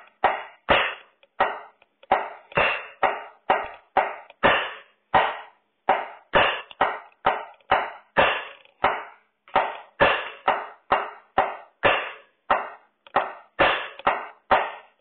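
A drum pattern plays alone at a steady tempo, with the right hand striking the drum for the beat while the left hand keeps clicking on the rim, producing a brisk, evenly spaced run of sharp hits.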